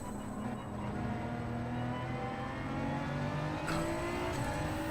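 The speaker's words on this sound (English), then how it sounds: "Still the engine's quite loud compared to my text-to-speech voice" A race car engine in Gran Turismo 7 drones steadily and loudly throughout, with layered engine tones that shift slowly in pitch as the car holds speed, with no other sounds on top.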